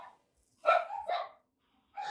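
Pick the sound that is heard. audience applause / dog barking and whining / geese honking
dog barking and whining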